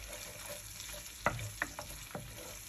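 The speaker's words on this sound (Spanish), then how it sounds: "Vamos a dejar que esto se sofría." Onion and garlic sofrito sizzles and fries steadily in a pan for a Peruvian quinoa stew, with a few sharp stirring clinks and scrapes standing out over the constant close crackle.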